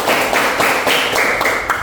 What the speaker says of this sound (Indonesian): tepuk tangan untuk Kesia.